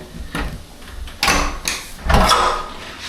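Hotel suite door fitted with several locks being worked, giving a few sharp clunks and sliding metallic clacks in bursts over a quiet room, fairly close.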